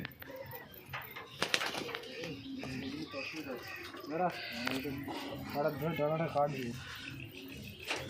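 Pigeons coo in a home loft with a prized collection of breeds such as Shirazi, their soft warbling calls rising and falling throughout, mixed with wing rustles and a voice talking over them.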